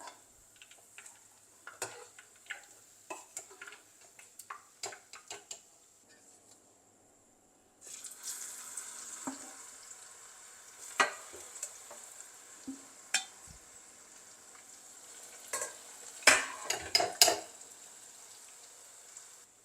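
Sliced okra (ladies finger) fries quietly in a pan for a sambol, with a soft steady sizzle. It is broken by intermittent clicks and scrapes of a spoon stirring against the pan, with no talking.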